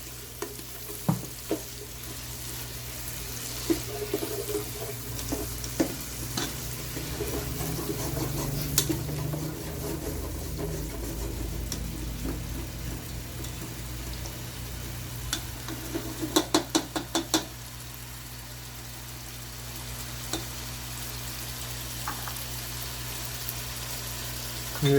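Food sizzles and fries steadily in a pan while a utensil stirs it, with a few sharp scraping clicks and clatters standing out near the middle. The frying sound stays close and fairly loud throughout, with no voices.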